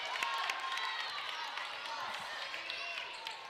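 A high school girls' basketball crowd cheers and claps after a Timberwolves three-pointer in a gym against Minnechaug. The cheering is steady, moderately distant and fairly quiet, with scattered claps and voices throughout.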